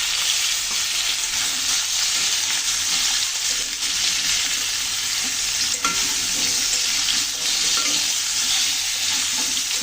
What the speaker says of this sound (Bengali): সব তরকারি আবার একটু ভালো করে ভেজে নেব।